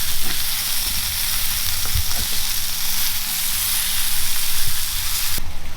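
Boiled potatoes finishing in a pan with garlic and basil, sizzling and frying loudly and steadily up close, with occasional stirring clinks and no talking.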